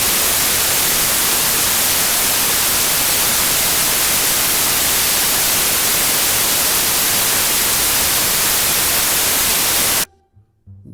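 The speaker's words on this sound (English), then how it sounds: "Sleeping to white noise." Steady broadband white noise hisses continuously and loudly for about ten seconds, then cuts off abruptly into near silence.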